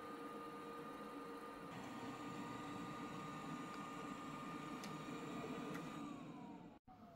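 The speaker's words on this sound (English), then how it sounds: "Okay, so it should empty out the robot vacuum." A eufy L50 robot vacuum's self-emptying dock runs a steady, loud whirring suction hum for several seconds, then cuts off abruptly near the end.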